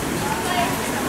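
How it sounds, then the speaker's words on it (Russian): A working fountain on the Yalta seafront embankment splashes in a steady, dense wash of falling water that fills the whole moment at moderate loudness, with a voice talking over it. "Фонтан работает"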